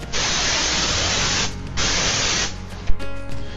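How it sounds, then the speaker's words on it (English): Bursts of hissing cooking spray onto cake pans, close and steady, with a short pause in the middle before a second long spray and a small clatter near the end. "And don't forget to spray the sides."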